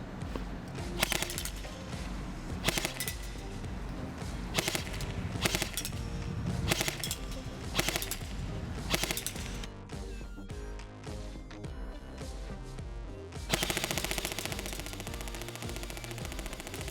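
A VFC Umarex H&K MP5A4 airsoft gun fires repeated bursts, each a quick mechanical rattle of shots separated by short gaps, close and loud with no speech.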